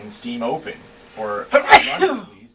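A loud, close sneeze bursts out right after a man's speech, followed by a short exhalation, with talk resuming briefly around it.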